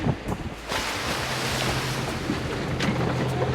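Ocean swells and waves wash around a sailboat off Bald Head Island near the Cape Fear River, a continuous loud rush of water mixed with heavy wind buffeting the microphone.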